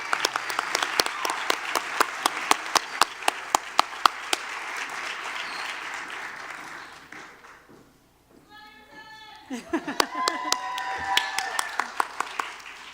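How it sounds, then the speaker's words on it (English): An audience applauds award nominees at a regional educators awards and scholarship ceremony. Dense, lively clapping dies down into a brief lull with a voice, then swells back up near and loud. "a round of applause for all the nominees as they exit the stage"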